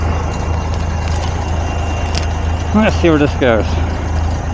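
An M939A2 military truck rumbles at a steady idle as it prepares to pull a Dodge truck, a low continuous engine drone close by, while someone speaks briefly near the end.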